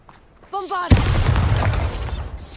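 A Bombarda spell explodes in the Hogwarts Legacy video game: a sudden loud boom bursts in, then a long rumbling roar that sustains to the end, following a short voiced cry.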